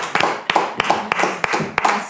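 Studio audience in a French TV talk show applauding, the clapping swelling and dipping in several quick bursts with sharp accents, loud and close throughout.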